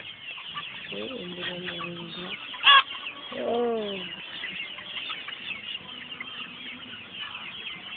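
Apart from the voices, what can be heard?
chickens clucking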